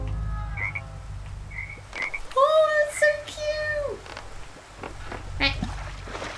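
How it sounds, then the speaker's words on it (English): A tree frog in the Crossy Road video game gives a few bright, tonal croaks near the middle, loud and close, while players chatter and react over a low background hum. "Tree frog."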